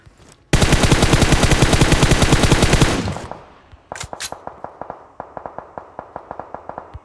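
Rapid automatic gunfire from PUBG Mobile, a long sustained burst of close, loud shots that stops abruptly, followed by a sparser run of single sharp shots and a couple of bright impact or ricochet sounds.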